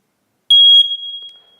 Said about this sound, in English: These really neat smoke alarms